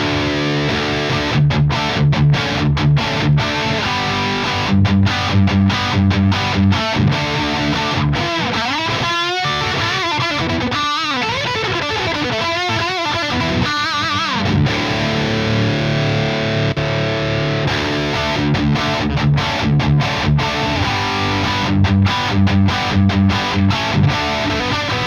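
Electric guitar played through a Peavey 5150/6505 tube amp with no overdrive pedal in front, a dense, distorted high-gain tone of sustained chugging riffs and chords that stays loud and continuous for about 25 seconds.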